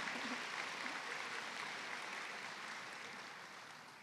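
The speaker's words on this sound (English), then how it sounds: "we're going to applaud those even if they're not here" An audience at a nursing pinning ceremony applauds the clinical partners, a soft, distant wash of steady clapping that slowly fades toward the end.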